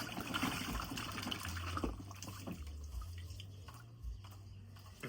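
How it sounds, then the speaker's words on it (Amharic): Food being washed by hand in water: steady splashing and sloshing, close and moderately loud, with no talk. "እንደዚህ ውሃ ውስጥ እናጥበዋለን።"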